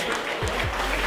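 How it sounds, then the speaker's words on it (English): A crowd at a Premiership Rugby event in America gives a round of applause, a dense, steady wash of clapping under a low rhythmic thumping. "How about a round of applause for Lane,"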